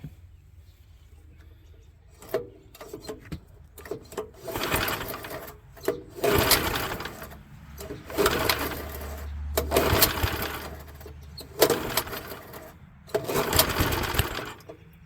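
A small Troy-Bilt Horse tiller engine sputters and chugs in uneven bursts, catching briefly and dying back repeatedly as it struggles to start, close by with no talk.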